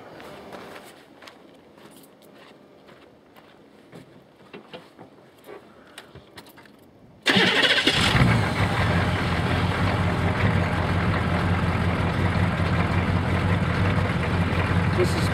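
A 27-year-old Detroit diesel engine starts on a blend of 35% gasoline and 65% waste canola oil. After about seven seconds of quiet it suddenly catches and settles into a loud, steady, close idle rumble that runs to the end.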